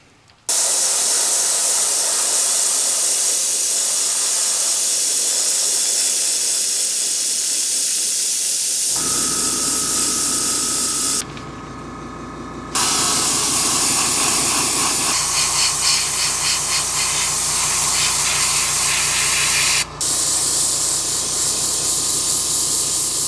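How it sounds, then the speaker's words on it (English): An airbrush sprays paint onto concrete fingerboard obstacles, giving a loud continuous hiss that runs almost the whole time, with the tone shifting partway through and a brief pause in the spray. "Really love airbrushing because you can get some really cool details"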